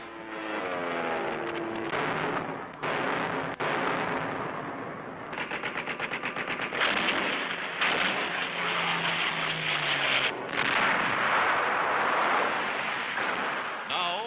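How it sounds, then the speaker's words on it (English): U.S. artillery shelling a Nazi-held naval base across Lake Bizerte in 1943, heard as dense, continuous booming and rapid bursts of gunfire throughout, loud and close with sharp percussive volleys in the middle. "Across Lake Bizerte, U.S. artillery reduces the Nazi-held naval base."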